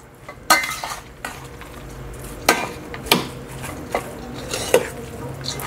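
White onion and garlic mixed in a pan with a utensil: a series of sharp scraping and clinking strokes at an uneven rhythm, close and fairly loud, over a low background hiss, with no talking.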